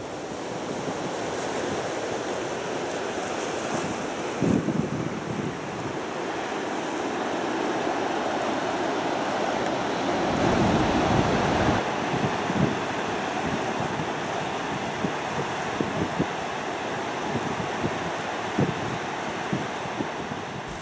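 Water rushes from a dam release at about 19,807 cubic feet per second, a continuous loud roar heard from a distance with wind buffeting the microphone.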